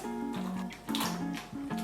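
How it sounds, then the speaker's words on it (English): Pasta poured into a bowl of boiling water gives a short, splashy gush of water, close and moderately loud, with faint tonal background sound. "I'm just gonna pour the pasta into a bowl of boiling water."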